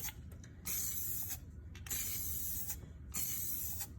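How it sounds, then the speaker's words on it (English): Rust-Oleum dead flat clear coat sprays from an aerosol can onto rusty underbody metal in three short hissing bursts about a second each, close and steady, with quiet gaps between. "I'm gonna use this dead flat Rust-Oleum clear coat now."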